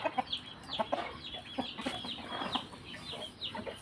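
A young fighting rooster clucks in quick, uneven bursts nearby, a string of short throaty calls with no voices.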